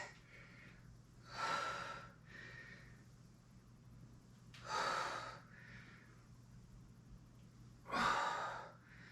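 Three heavy, audible breaths, each a strong exhale spaced a few seconds apart, as someone performs sumo squats, faint and close with a low steady hum beneath.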